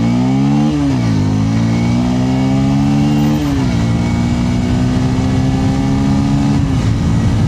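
A Bajaj Pulsar 150 motorcycle exhaust rumbles loud and close, the engine note rising in pitch as it accelerates, easing briefly, then climbing again through gear changes.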